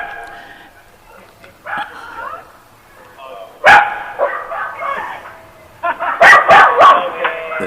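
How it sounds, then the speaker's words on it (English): A dog barks in sharp bursts, several yips and barks scattered across the stretch with whimpering sounds in between, while people talk over it. "Brian, is that you or the dog?"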